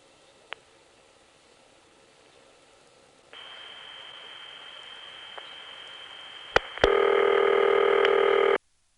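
Telephone call on an XY step-by-step switch going through: faint line hiss and clicks, then a steady tone, sharp switching clicks, and a louder buzzing tone that cuts off abruptly.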